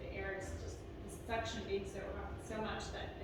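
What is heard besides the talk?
No everyday noises stand out.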